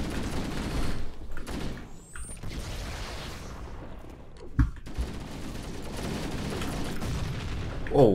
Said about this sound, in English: Oh, was that your grenade?